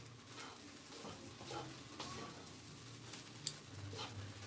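Onion samosa filling is stirred in a pan, giving a faint, soft sizzle with intermittent spoon scrapes and one brief sharp tick, quiet and close.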